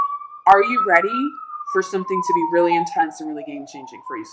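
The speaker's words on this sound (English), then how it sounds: "excuse the sirens in the background" An emergency vehicle siren wails steadily in the background for the whole stretch, a continuous rising and falling tone that runs beneath someone talking.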